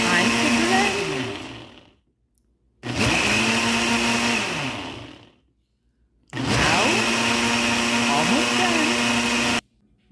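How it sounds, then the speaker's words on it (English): A countertop blender whirs through a honey smoothie in three loud, close bursts separated by short pauses, its motor pitch dipping and rising as the contents churn. "Time to blend."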